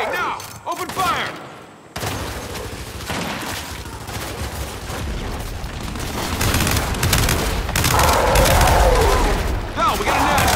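Sustained gunfire and explosive booms from a Gears 5 firefight, loud and dense throughout, with shouted voices mixed into the combat.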